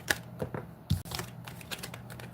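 A deck of cards is shuffled for a Leo astrology reading: a quick series of soft, papery riffles and taps, close and fairly quiet, with no talking.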